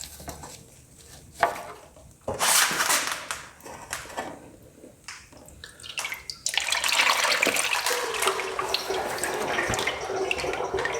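Transmission fluid from a Mercedes C63 AMG transmission drains onto cardboard, a steady close splashing pour that swells after a few scattered clinks and drips, then runs continuously to the end.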